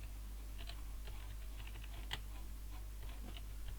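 Keys click on a computer keyboard as a name is typed, a quiet, irregular run of light taps over a steady low electrical hum.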